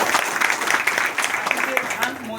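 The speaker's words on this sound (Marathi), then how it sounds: "जोरात टाळ्या बाबांसाठी" An outdoor crowd of paddy farmers at a rural Konkan gathering claps, a dense run of close handclaps with people talking over it.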